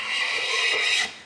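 A hand plane shaves a thin curl of wood, its vibrating blade giving a single brief, bright rasping chatter that stops abruptly.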